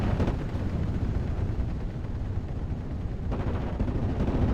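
Mortar half-tracks firing in a WWII real-time strategy game, a dense continuous rumble of distant launches and impacts that swells and holds across the whole stretch, with no voices.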